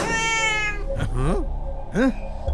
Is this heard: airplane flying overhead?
no